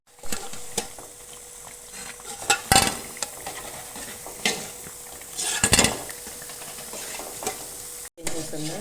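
Badusha sweets fry in hot oil, a steady sizzle broken by repeated scraping stirs and sharp clinks of a utensil against the pan, close and with no voices.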